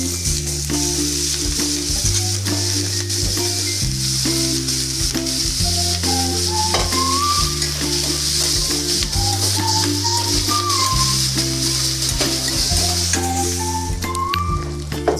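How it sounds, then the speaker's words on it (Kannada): Ridge gourd with onion and chillies sizzles steadily in a hot pan while being stirred, a continuous close frying hiss with scraping under background music. "ಆಮೇಲೆ ವಾಶ್ ಮಾಡಿರುವಂಥ ಹೀರೆಕಾಯಿನ ಹಾಕಿ ಎಲ್ಲನೂ ಸಿಮ್ಮಲ್ಲಿಟ್ಟು ಮಿಕ್ಸ್ ಮಾಡ್ಕೋಬೇಕು."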